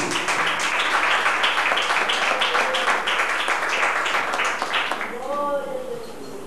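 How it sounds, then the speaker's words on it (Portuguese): A church congregation claps for a brother during an evening service, a dense, steady patter of many hands for about five seconds before it thins and a single voice rises over the last moment. "Receba o irmão com palmas para o Senhor, igreja"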